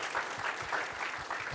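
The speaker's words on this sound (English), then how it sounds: "Go ahead, round of applause." An audience at a panel event on race, comedy and prime-time TV gives a short, steady round of applause, with a dense wash of clapping throughout.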